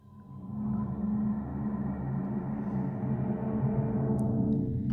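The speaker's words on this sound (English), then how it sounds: "drones are just that. They're sounds or soundscapes that sit under a track to give a sense of space" A sustained synth drone from a sample library swells in and holds as a low, dense, humming bed of layered tones, steady and smooth with no talking.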